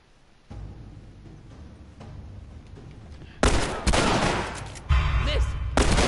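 Gunfire in the PlayStation 4 game The Last of Us Remastered, starting as quieter shots and rising into loud, dense bursts of repeated firing close up.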